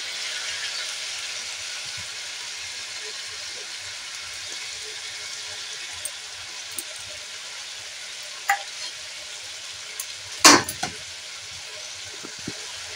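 Meat frying in a little oil with chili paste and turmeric paste over a low flame, a steady close sizzle with a few soft clicks and one sharp clatter of the pan.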